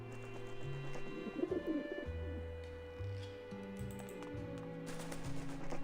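Pigeon cooing from the video game Grim Fandango, low repeated coos over a steady game music bed, with chirpy higher notes and a brighter burst near the end.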